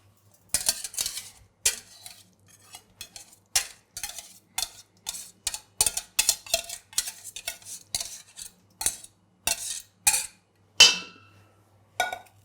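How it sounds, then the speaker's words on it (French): A utensil scrapes and clinks against a bowl as fromage blanc and sugar are stirred together for a garlic cheesecake, a steady run of sharp close taps and scrapes with brief pauses and no talk. "On mélange bien comme il faut pour que le sucre puisse se dissoudre correctement et entièrement"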